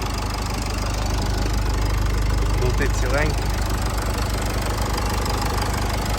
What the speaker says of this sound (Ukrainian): а зараз заведу двигун, покажу вам підкапотний простір